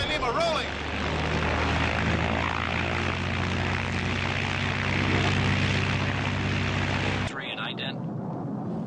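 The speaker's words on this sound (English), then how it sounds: "Hunter jumps into the P-51" A P-51 Mustang's propeller engine roars loud and steady in a Magnum P.I. scene, a dense droning hum that holds for several seconds and then cuts off abruptly into quieter background sound.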